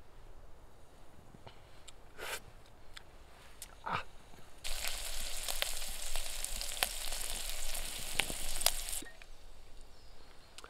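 Food crackles and pops faintly in a pan at a solo forest campsite, then a louder burst of sizzling rises for several seconds before dropping back to quiet crackling.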